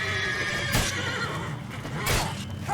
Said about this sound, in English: Oh, look at the armored horse.